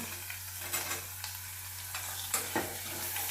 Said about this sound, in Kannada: ಹಾಗಲಕಾಯಿ ಹಾಕ್ಕೊತ ಇದ್ದೀನಿ